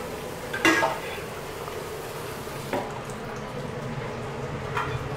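A hot pan hisses with a steady, soft frying sizzle in a home kitchen, broken by a few sharp utensil clinks against the pan.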